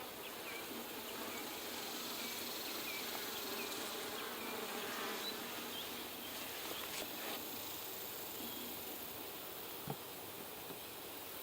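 Honey bees hum in a hive drawing out new comb, a dense steady buzz of many insects that fills the whole stretch at a soft, even level, with a faint click near the end.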